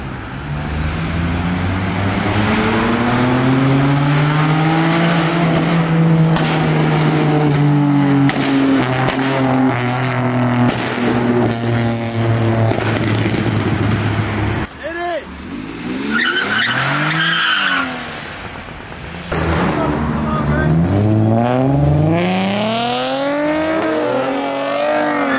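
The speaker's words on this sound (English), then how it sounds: "that fucking Honda is hauling ass" Cars sliding sideways at a chaotic park-and-chill meetup: a Honda and others rev hard with long rising and falling engine notes and screeching tire squeal, loud and close, passing by in waves.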